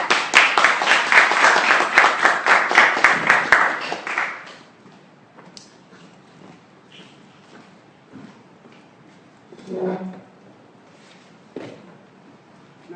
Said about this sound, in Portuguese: Então, um forte aplauso para o seu esforço pela cidade.